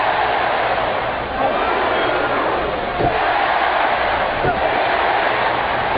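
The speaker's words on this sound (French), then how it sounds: "Écoutez la foule qui réagit." An arena crowd at a WrestleMania 24 bout between the Undertaker and Edge roars steadily and loudly throughout, with the surges of a packed audience and no clear break.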